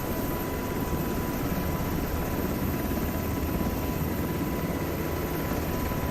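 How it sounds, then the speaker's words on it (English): A UH-60M Black Hawk helicopter in taxi mode before a rolling takeoff: a loud, steady rotor and turbine roar with a constant broadband wash and a thin steady whine, no talk over it. "we're going to do more of a rolling takeoff. So we're going to go ahead and turn on taxi mode"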